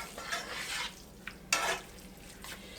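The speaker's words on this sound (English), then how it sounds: "I'm just going to stir this in here and let it heat a little bit" A spoon stirs cream of chicken soup into a tater tot casserole mixture in a pot that is not yet heated, making soft wet scraping and mixing sounds in bursts with brief pauses, close and fairly quiet.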